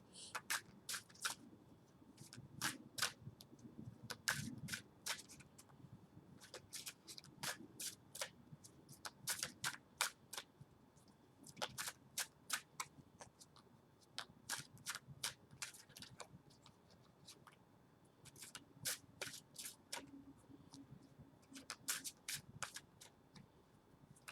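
Tarot and Ascended Masters oracle cards being shuffled and drawn, a soft, close series of quick riffling flicks and slaps in bursts, with brief pauses of faint handling noise between them.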